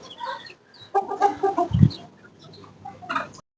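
Aseel chickens cluck in short, scattered bursts at close range, with a few louder squawks standing out over a quiet background, on a farm.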